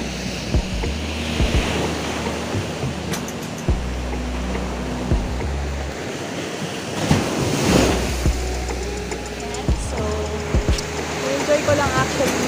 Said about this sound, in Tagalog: yung hampas ng dagat